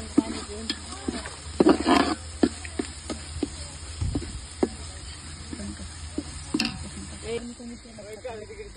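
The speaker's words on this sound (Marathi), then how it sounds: "टोमॅटोला पण चांगला आपण तेल सुटेपर्यंत परतून घ्यायचं" Tomato gravy with onion frying in oil over a wood-fired chulha for a farm chicken party, a soft steady sizzle broken by scraping and clinks of a stirring ladle, while someone talks over it.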